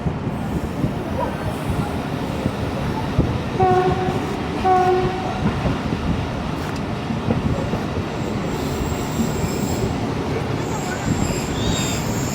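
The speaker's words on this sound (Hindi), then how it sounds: "ट्रेन भी हमारी दोस्तों इतने में प्लेटफॉर्म पे भी आ चुकी है।" A passenger train on a Karachi to Gujranwala route pulls into a railway station platform, with a steady broadband rumble of wheels and carriages throughout and a brief two-tone horn-like sound in the middle, voices faintly present.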